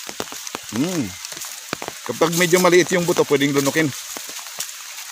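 Rain patters steadily on an upland multicrop farm, a soft crackling hiss under someone speaking at length close by.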